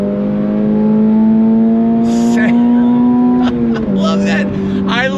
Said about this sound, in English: I love the sound out of that freaking GR exhaust